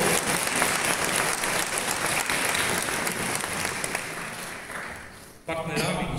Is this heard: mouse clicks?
no